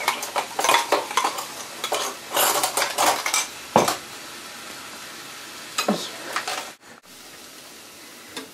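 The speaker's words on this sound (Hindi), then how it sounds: "बचा हुआ टमाटर बिना लहसुन अदरक वाला ये भी इसमें डाल के अच्छे से भून लेंगे।" Tomatoes stir-fried in a pan, heard as repeated clinks and scrapes of a spoon against the pan with a faint sizzle underneath, in irregular bursts before a quieter stretch.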